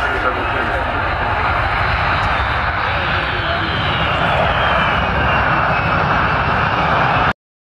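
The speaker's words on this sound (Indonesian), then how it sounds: "Now the crew will demonstrate a very short landing distance." A large military aircraft, one of the biggest ever built, lands on a short runway, its engines a loud, steady roar that holds unbroken throughout before cutting off abruptly.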